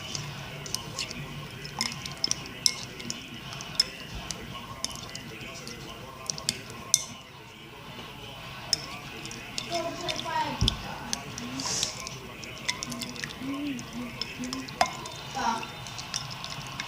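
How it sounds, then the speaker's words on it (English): Slime being kneaded and mixed by hand, giving soft, wet squishing and sticky clicks that run continuously at close range over a busy background. "Now we're just gonna mix the slime."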